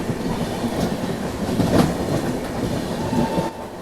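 Gonda Humsafar Express rolling past at close range, with a steady rumble of carriages and a clickety-clack of wheels over rail joints, heard alone without voices.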